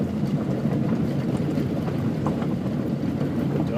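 A Hells Canyon tour boat runs in third gear at about 20 miles per hour, its engine rumble a steady, loud drone mixed with rushing wind and water noise, with no talk heard.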